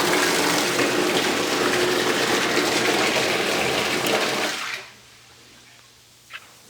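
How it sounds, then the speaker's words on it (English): A pump returns water to a large reef tank, producing a loud gushing, splashing flow that runs steadily and then cuts off abruptly, leaving a low hum and a faint click. "I turn on the power supply, and water will pump out back to the tank."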